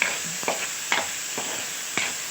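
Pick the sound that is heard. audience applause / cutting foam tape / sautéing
sautéing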